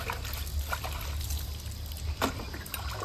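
Water runs steadily while dishes are washed, a soft continuous trickle and splash with a few faint clinks of utensils, heard alone at moderate distance.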